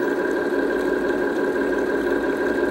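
A video-game tractor engine heard from the cab, a steady mid-pitched idle drone with a faint rattling vibration, loud and unbroken, with no one speaking.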